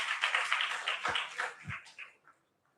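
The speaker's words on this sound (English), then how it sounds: "let's clap for Mr." A small audience at a freshers' orientation seminar claps for a presenter, a brief scattered round of applause that thins out and stops within a few seconds.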